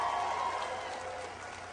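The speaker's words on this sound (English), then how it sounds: "Give her a big round of applause." Applause from a political rally audience in Manchester, New Hampshire, greeting congresswoman Carol Shea Porter: a quiet, steady wash of clapping throughout, distant and low in level, with no voices over it.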